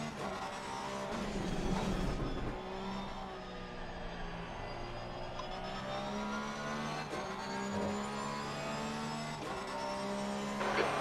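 Race car engines drone and whine continuously in a sim racing game at Watkins Glen, several cars layering sustained revving tones with shifting pitch and no commentary over them.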